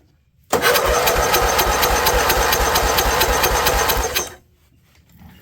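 An old junkyard engine, ratchet-strapped to a pallet, cranks over and catches, running loud and steady with a rapid even pulse for several seconds before cutting off abruptly.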